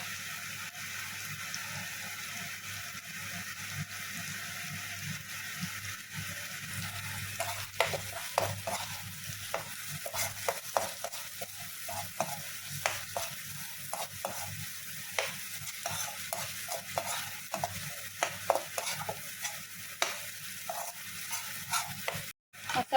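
Paneer masala spices (turmeric, garam masala, coriander powder and shahi paneer masala) fry in a pan with a soft sizzle while a spoon stirs and scrapes in repeated quick clicks, close up and without talk.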